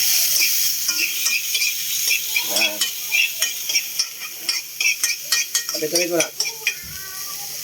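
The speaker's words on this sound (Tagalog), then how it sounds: "Siyempre, gisahin natin muna yung luya" Ginger sizzles in a hot pan at the start of cooking mung bean stew, stirred with a utensil that repeatedly scrapes and clinks against the metal over a constant frying hiss. A voice speaks briefly.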